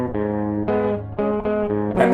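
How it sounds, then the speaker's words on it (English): Distorted electric guitar recorded direct, with only light saturation, playing sustained chords that change about every half second, dry and forward with no other sound. "my distorted guitar track, which by itself just sounds like this."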